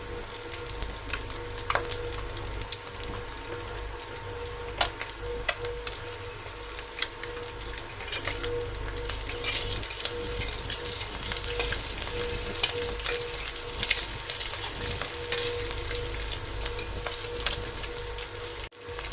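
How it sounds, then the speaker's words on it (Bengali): Food fries in oil for an egg curry, a dense, steady sizzle heard up close with occasional pops and light stirring clicks, continuing evenly to the end. "ভাজা হয়ে গেছে, এবার আমি তুলে নিচ্ছি।"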